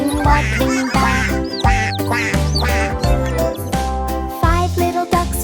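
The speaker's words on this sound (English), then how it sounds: "Mama duck said, quack, quack, quack." Cartoon mama duck quacking in a children's nursery rhyme song, bright repeated quacks set over a bouncy musical backing with jingling tones.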